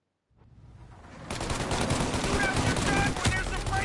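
Sustained gunfire from a shootout in Mafia Definitive Edition: after a brief quiet start, dense overlapping shots and rapid automatic bursts build up and continue loudly to the end.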